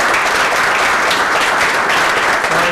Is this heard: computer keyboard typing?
no